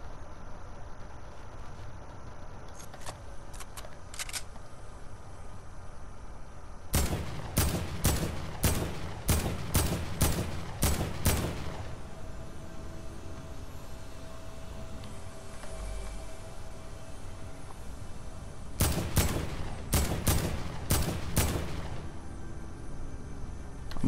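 Fortnite Battle Royale gunfire comes in two loud, rapid bursts of sharp shots, each lasting a few seconds. Quieter game ambience fills the stretch between them, and no one speaks.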